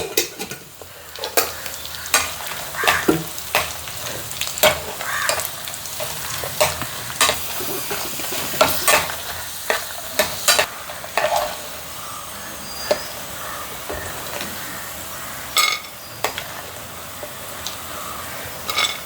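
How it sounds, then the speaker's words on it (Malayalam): Sun-dried jackfruit pieces and curd-cured chillies fry in hot oil with a continuous close sizzle, broken by frequent sharp scrapes and clacks of a spoon stirring in the pan. "കുറച്ച് വറുത്താൽ മതി."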